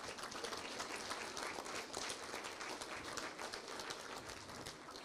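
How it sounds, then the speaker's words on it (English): Guests at a 2022 Texhoma FFA banquet give a round of applause for the cook who smoked the brisket and pork shoulder, a continuous even patter of many hands, somewhat distant and fairly quiet. "If you guys would give a quick round of applause for him."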